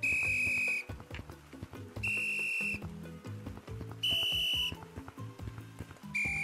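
Whistle blown repeatedly in the video game Gorilla Tag, four loud, sustained shrill blasts about a second each, evenly spaced over steady game music and background clatter.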